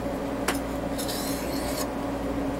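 Steel gut hook blade drawn across the 300 grit side of a sharpening stone, with a few brief, close scraping strokes over a steady background hum.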